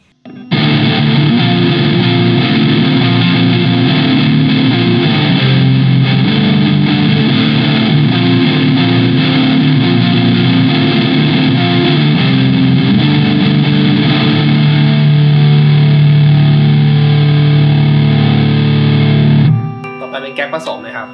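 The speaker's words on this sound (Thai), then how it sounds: "ต่อไปจะเป็นการเทสเสียงแตกนะครับผมเราจะเริ่มจากพิกอัพตัวเน็กนะครับ" Sustained distorted electric guitar with a warm, thick tone from the neck pickup of a Chapman ML1 Modern, chords ringing loudly for about twenty seconds before cutting off abruptly.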